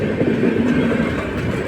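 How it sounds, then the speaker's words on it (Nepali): A train bound for Patna rumbles past at night, a loud, continuous low roll of wheels on rails with faint clattering, close by. "यही ट्रेन होला है उयो जाने पटना जाने"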